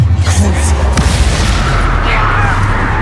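A Bombarda blast spell goes off in Hogwarts Legacy amid a busy magic duel, a loud low boom over constant rumbling game noise and effects.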